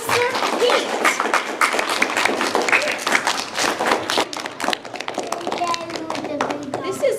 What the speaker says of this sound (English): let's everybody give a nice round of applause to Officer Pete